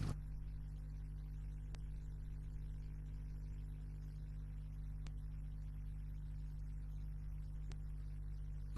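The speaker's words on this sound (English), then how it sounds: "After the machine runs normally, about 3 to 5 minutes," A dumpling machine runs steadily with a constant low mechanical hum and faint electrical buzz, with no talk over it.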